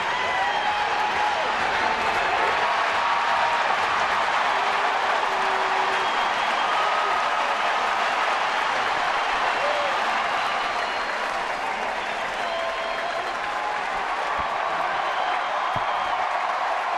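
Stadium crowd at a Giants game roars and cheers continuously as Tim Lincecum closes out his second no-hitter, a dense, sustained wall of cheering and applause that holds loud throughout.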